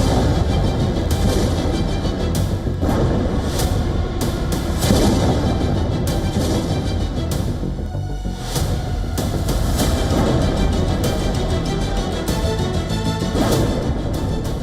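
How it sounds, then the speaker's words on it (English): Missile strikes blast buildings in Tehran at night, a dense rumbling barrage of repeated booms and crackling impacts rolling on without pause, loud and layered with distant artillery-like thuds. "Explosions rip through buildings linked to Iran's military infrastructure."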